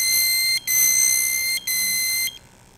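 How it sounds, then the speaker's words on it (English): A loud, piercing electronic beep from a 4-gas safety monitor alarm sounds in three long pulses with brief gaps, then cuts off. "it's flashing, making a really annoying beeping sound"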